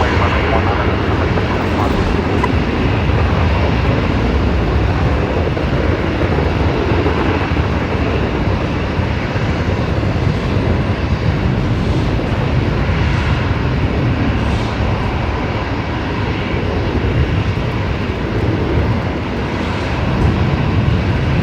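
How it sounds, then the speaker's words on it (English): A Velocity airliner takes off from a runway at Brisbane Airport at night, a dense, steady jet roar heard from some distance that holds level throughout, with a voice speaking at times. "this is Velocity 1402 heading down to Adelaide off of runway left."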